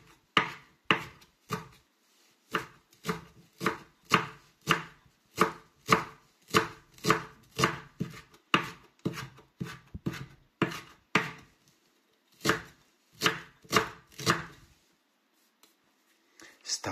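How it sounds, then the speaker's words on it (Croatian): Fresh carrot leaves chopped finely with a knife on a board, a brisk run of sharp, evenly spaced blade strikes with a few short pauses, close and clear without talk. "Sitno nasjeckajte svježe listove mrkve."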